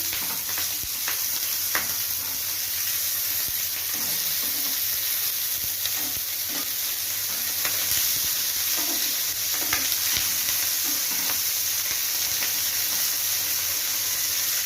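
Ilish paturi, hilsa fish wrapped in banana leaf, sizzling in a pan on low heat after being flipped: a constant close hiss and crackle with scattered small pops, unbroken and without talk.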